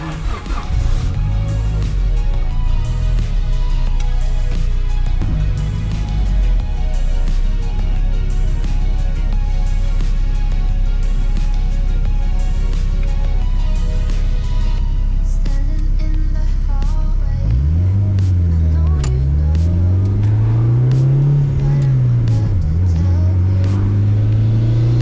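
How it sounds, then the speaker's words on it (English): A boosted Honda Civic drives along, its engine droning steadily from inside the cabin, then rising and falling through repeated revs and gear changes, loud and close. "Pretty excited to drive this car home."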